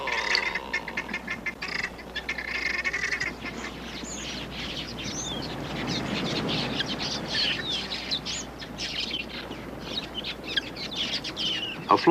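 A flock of quelea birds making a hit-and-run raid on a waterhole, a busy mass of chirps and twittering calls layered over a low rushing background, steady throughout.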